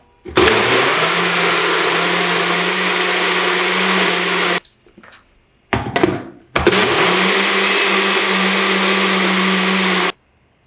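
A blender loudly whirs through a green smoothie of banana, milk, avocado, strawberries, kale and protein powder in two long steady bursts, with a short rattling pause and restart between them.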